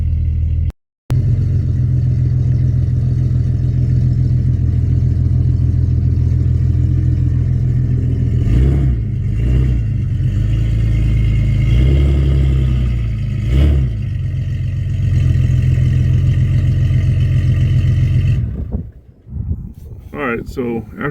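Loud, steady engine rumble from a car being driven around the block after a brake line repair, holding through most of the run before cutting off near the end with a few clatters.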